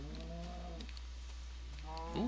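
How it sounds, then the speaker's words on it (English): Mooing cows in a farming video game give two drawn-out, tonal moos, one early and one near the end, heard plainly with no talk over them. "Ooh, I have a lot more cows."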